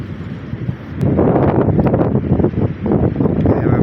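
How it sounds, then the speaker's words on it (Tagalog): Strong wind buffets a microphone on a beach with big waves, a steady rushing roar that surges louder after the first second and keeps gusting. "Napakalaki ng mga alon. Lakas ng hangin"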